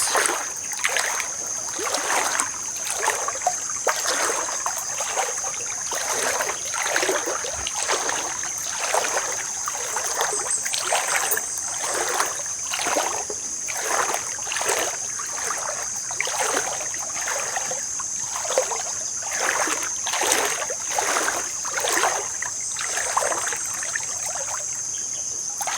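A clear creek flows steadily nearby, its water running in rhythmic, pulsing washes with constant insect buzzing in the background; no talk.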